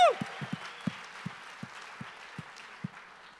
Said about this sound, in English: I hope we can clap loud enough so they can all hear us